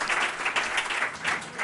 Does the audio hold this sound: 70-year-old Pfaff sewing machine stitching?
no